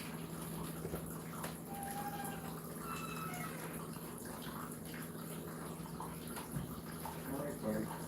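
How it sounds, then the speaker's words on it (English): Fresh cold water runs steadily outdoors as a soft continuous gushing wash, with a low hum underneath and faint knocks and bumps near the end. "Got some fresh water. It's cold."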